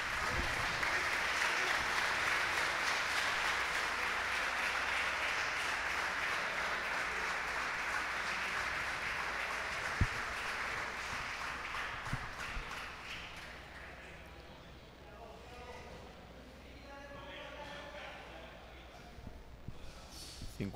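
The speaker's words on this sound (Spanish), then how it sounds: "Un fuerte aplauso por esa extraordinaria pieza." Audience applause at the awards of a Spanish national spearfishing championship, dense clapping for a catch that gradually thins and fades out after about thirteen seconds, leaving quieter murmuring voices in the room.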